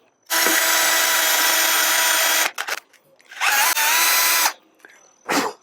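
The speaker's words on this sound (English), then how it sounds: "I've got to drill out the opening here a little bit, so I'm going to try with 11/32" A power drill fitted with an 11/32 bit whines loudly for a couple of seconds while drilling out an opening on a Jeep, stops, then runs again in short bursts with brief pauses between.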